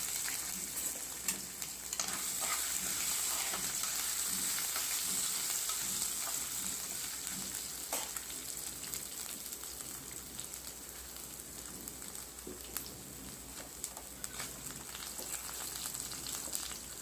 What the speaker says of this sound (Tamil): அந்த உளுத்தம்பருப்பு, காஞ்ச மிளகா, இஞ்சி பூண்டு இதெல்லாமே வறுத்தெடுக்கணும்